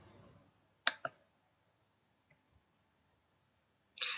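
A computer mouse clicks a few times while a file is opened in Excel: a quick double click, then a faint single tick and a louder click, each crisp and close against near silence.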